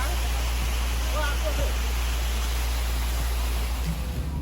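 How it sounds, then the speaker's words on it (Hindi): A waterfall beside a road near Darjeeling gives a loud, steady broadband roar of falling water that fills the whole clip without a break. "थोड़ी ही दूर चलने के बाद हमारे रास्ते में ये वाटरफॉल आया"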